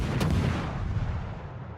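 Warship guns firing in World of Warships, a heavy booming shot burst at the start that rolls into a long, low rumbling decay, loud and with no voices.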